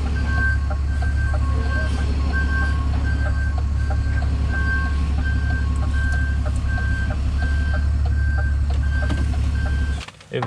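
A Class 2 HGV lorry reverses, its alarm giving a regular series of loud, close beeps over the deep engine rumble for about ten seconds before stopping.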